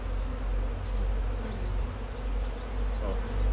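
A thick, continuous buzz of a crowd of honeybees around a hive, close and steady, with a few individual bees whining past.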